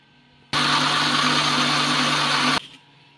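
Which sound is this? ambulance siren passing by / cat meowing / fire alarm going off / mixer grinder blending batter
mixer grinder blending batter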